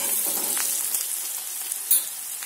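Chili-powdered fried onions sizzle steadily in a pan for a methi rassa bhaji, with faint stirring scrapes and one slightly louder scrape near the end.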